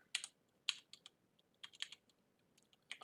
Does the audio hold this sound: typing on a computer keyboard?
yes